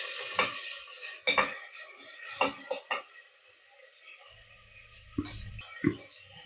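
Coriander stirred and sautéing in oil in a pressure cooker for a desi-style mutton dish, with scraping spoon strokes against metal, a soft sizzle and a few clinks of the pot, close by and without talk.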